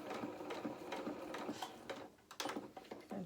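A sewing machine stitching a single row through fabric for a doll jacket, a fast rattling whir in short bursts with brief pauses between runs.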